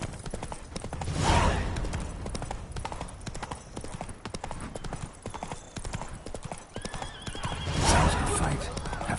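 Horse hooves clip-clop at a gallop through The Witcher 3 with a loud whinny near the start and another near the end, a steady rhythmic drum of hoofbeats between them, and a voice speaking briefly at one point.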